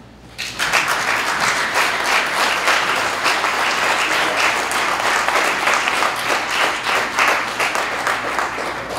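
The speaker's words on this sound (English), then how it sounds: "Give him a round of applause." A crowd at a pro-gun activist rally in Richmond breaks into loud, sustained applause that starts abruptly and continues steadily, tapering slightly toward the end.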